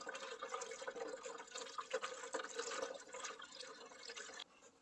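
Steady stream of distilled water pouring into the coolant reservoir of a Kia Sorento or Hyundai Santa Fe 3.5L, a continuous liquid gurgle with no talking, stopping abruptly near the end.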